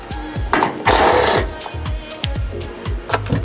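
A power tool backs out two 10mm bolts holding a Cybertruck light bar, close whirring with a rapid ratcheting pulse and one brief louder high-speed burst.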